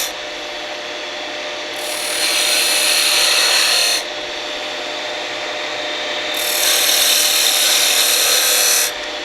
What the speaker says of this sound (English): Removing just a little bit of material each time from each side.